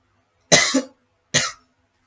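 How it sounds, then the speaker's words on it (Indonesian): Two sharp, close coughs from one person, about a second apart, in an otherwise quiet room. "Maaf karena saya agak sedikit batuk."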